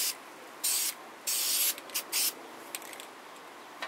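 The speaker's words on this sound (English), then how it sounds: "Go ahead and cover your cookie sheet with 1 or 2 coats of your black spray paint." Black spray paint hisses onto a cookie sheet in several short bursts, with two longer sprays followed by quick taps and puffs, close and loud over a quiet background.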